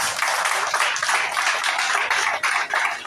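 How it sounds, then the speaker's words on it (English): An audience at a birthday symposium in Lagos, Nigeria gives a round of applause, a full, even wash of many people clapping that holds steady throughout. "if it's just a round of applause, we can do it again to appreciate this person"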